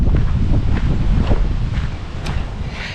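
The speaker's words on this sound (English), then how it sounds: "I don't know whether you can hear me over the wind." Strong, cold wind buffets the microphone outdoors, producing loud rumbling gusts and low booming flutter that rise and fall over a few seconds, with no voice present.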